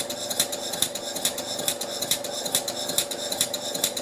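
A Stuart Turner Victorian horizontal mill model engine in good condition runs smoothly with no knocking, giving a rapid, even mechanical chuffing beat with metallic ticks, close and steady throughout.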